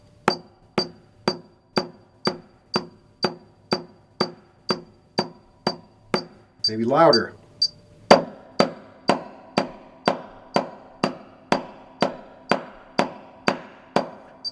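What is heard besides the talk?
drum double stroke roll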